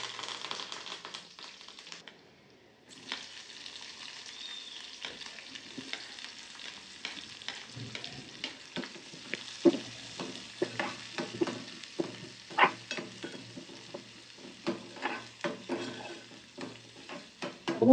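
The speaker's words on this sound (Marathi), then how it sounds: "जिरा टाकत आहे. आणि कढीपत्ता टाकत आहे." Cumin and curry leaves dropped into hot oil: a brief lull, then a sustained sizzle with rapid, irregular crackling pops and spoon taps that grow busier and louder toward the end, heard up close.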